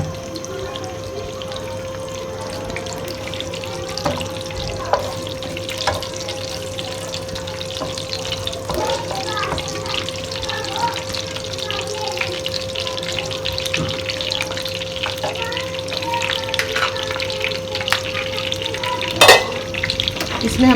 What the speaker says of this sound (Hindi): पहले साबुत लाल मिर्च शामिल करेंगे, ये थोड़ी सी फ्राई हो जाएंगे, फिर इसमें ज़ीरा शामिल करेंगे।